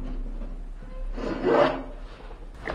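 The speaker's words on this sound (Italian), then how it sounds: "già si carteggia e rimane, diciamo, bello carteggiato" A fast-curing clear coat is being sanded, and a short scraping rub builds to a louder pass near the middle before a brief final stroke, close and alone.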